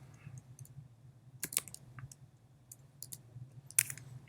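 Computer keyboard being typed on in short, irregular bursts of crisp clicks, a few keystrokes at a time with pauses between, close and fairly quiet.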